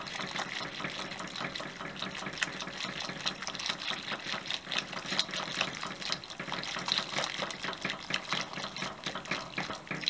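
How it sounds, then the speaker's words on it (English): Potato flour is being whisked into a pot of vegetable soup, giving a continuous close sloshing, liquid swirl with rapid whisk strokes and no talking. "I'm going to whisk it in anyway. Break up those lumps as they hit the soup."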